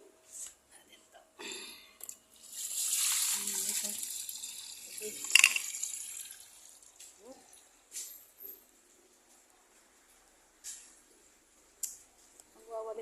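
Tap water runs while dishes are washed in a sink, with intermittent splashing, clinks and a longer gush of flow, fairly quiet and broken up by soft talking.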